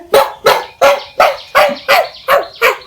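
A man doing mimicry imitates a dog barking with his voice, giving eight loud, evenly spaced barks close to the microphone, each sharp and clipped, with no other talk.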